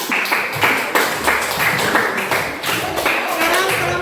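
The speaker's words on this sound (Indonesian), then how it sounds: "beri tepuk tangan untuk kelompok 4" A classroom group applauds, steady rapid clapping from many hands filling the room, fairly loud and continuous with a slight rhythmic pulse throughout.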